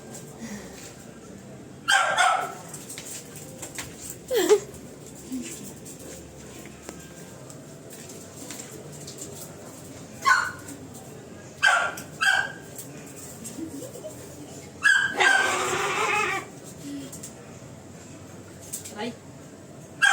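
Jealous dog barking and whimpering indoors, scattered bursts of sharp barks and yips separated by quiet stretches, with soft voices in the background.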